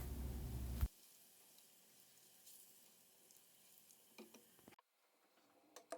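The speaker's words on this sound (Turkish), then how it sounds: "Sarımsağı kokusu çıkana kadar kavuruyorum" Garlic frying in oil in a pan, a soft steady sizzle heard quietly at close range, with a few faint clinks and stirring sounds near the end.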